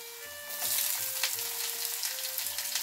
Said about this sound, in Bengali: এবারে আমি পেঁয়াজটা দেব।